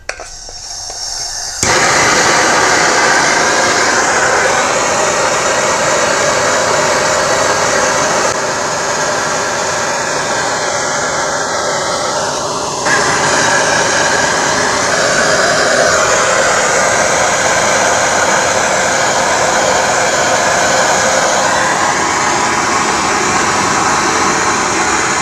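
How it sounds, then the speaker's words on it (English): A swirl-flame propane torch heating a long old steel file, roaring steadily and loudly at close range with a continuous broadband hiss that barely changes throughout. "I have a propane torch. This is one of those ones that gives you a little bit of extra heat by swirling the flame."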